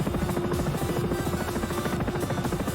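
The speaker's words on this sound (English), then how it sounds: "I'm just trying helicopters as something different" A Sikorsky S-76 helicopter in the X-Plane 11 flight simulator drones steadily with a rapid rotor chop and a high engine whine, loud and continuous throughout.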